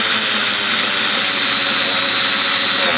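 A Ford Mustang GT 4.6 V8 fitted with a big throttle body and intake runs steadily, a loud, close, continuous engine roar with a bright hiss and no pauses or talk.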